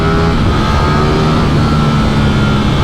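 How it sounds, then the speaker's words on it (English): A 2021 Ducati Streetfighter V4S motorcycle engine pulls at full throttle in second gear, a loud, steady roar with a strong low drone and rising engine tones held for the whole stretch, no voices. "it does give you the confidence to go full throttle"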